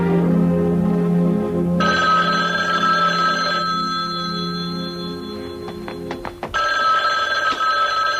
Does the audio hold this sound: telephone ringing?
yes